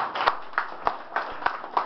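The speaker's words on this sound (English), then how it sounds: "one more round of applause for all of the readers, please" Sparse applause from a small audience at an evening poetry and prose reading, a handful of distinct claps in a light, uneven rhythm, fairly quiet and close.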